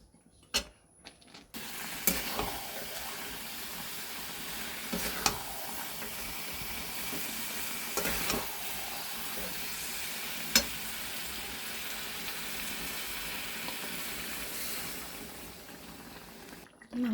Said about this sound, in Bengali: জল শুকিয়ে এবার এটাকে ভালো করে কষছি